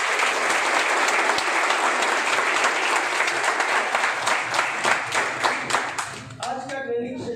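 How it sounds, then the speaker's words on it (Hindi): A seated audience at a business training session bursts into loud, sustained applause, dense clapping that continues for several seconds before thinning out and fading at the end. "आप लोगों के लिए जोरदार ताली हो जाए."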